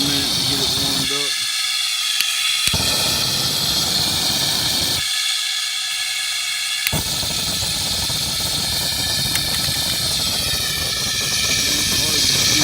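A homemade forced air propane burner gives a loud, steady roaring hiss that cuts out twice for a couple of seconds and then resumes, with a voice speaking over it.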